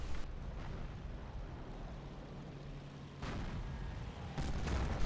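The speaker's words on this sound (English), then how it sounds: "Nice mortar hit." Mortar shells exploding in a video game battle, several broadband booms with a heavier blast near the end, among continuous rumbling gunfire and combat noise.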